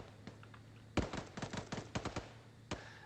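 Arma 3 gunfire in a large 124-player PvP battle: an irregular volley of sharp rifle shots, several quick close cracks in a cluster followed by a lone later shot, fairly quiet overall.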